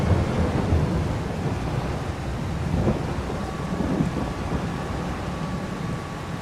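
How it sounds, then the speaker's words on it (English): Rain and thunder in the video game Farming Simulator 22, a continuous hiss of rainfall with soft rolling rumbles underneath and a faint steady engine tone, with no talk. "It's raining."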